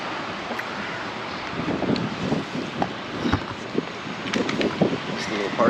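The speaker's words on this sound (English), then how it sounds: "And that wind is picking up now" Wind gusts buffet the microphone in a small Chinatown park in Toronto, rumbling and uneven with a brief sharp thump midway, while faint voices sound underneath.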